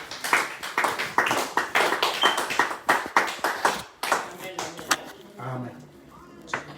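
Church congregation clapping in rhythmic bursts, close and fairly loud, mixed with voices, then tapering to softer scattered claps near the end.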